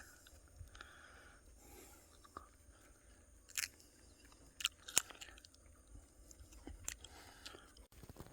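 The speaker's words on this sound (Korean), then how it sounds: "나도 한번 먹고 먹어 보겠습니다. 야생 도라지 꽃입니다." Wild balloon flower (doraji) blossoms are chewed outdoors on a mountainside, with quiet, close mouth sounds and a few sharper crunchy bites spread over a faint background.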